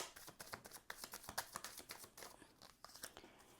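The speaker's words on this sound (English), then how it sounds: "Another shuffle for Sagittarius." Quiet, close riffling and slapping of tarot cards being shuffled, a rapid crisp papery patter with no talking.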